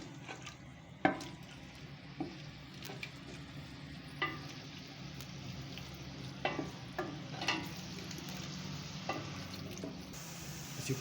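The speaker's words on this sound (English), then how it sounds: "So you're going to cook these onions until they turn golden brown." Onions frying in a pan until golden brown, a quiet steady sizzle with scattered clinks and scrapes of stirring, heard close and without talk.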